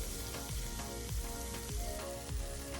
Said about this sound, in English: on medium flame we will saute them until they are slightly soft